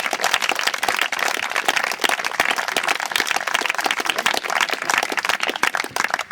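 Dense, sustained applause and clapping from an audience at a tournament prize-giving ceremony in Villenauxe, steady and crowd-wide with no voices standing out.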